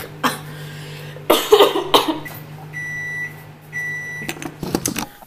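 Microwave oven heating a cup of milk, a steady low hum running under coughs and throat clearing, with a brief high electronic tone during the cycle and handling clatter near the end.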